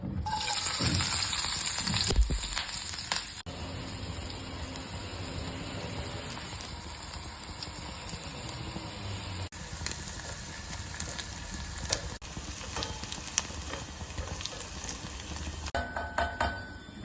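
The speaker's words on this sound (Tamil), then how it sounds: "ஆயில் நல்லா சூடான உடனே வெங்காயம், பச்சை மிளகாய் அதில் போட்டு நல்லா வதக்கிடுங்க." Onion and green chili sautéed in about half a cup of hot oil, making a soft, steady sizzle that stays faint and continuous, with a few light clatters along the way.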